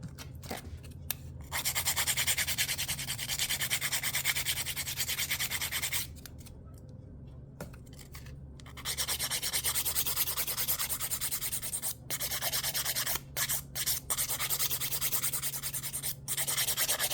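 Acrylic nails are being filed smooth during Halloween nail art, a continuous close scratchy rasp in long rhythmic strokes with brief pauses in between.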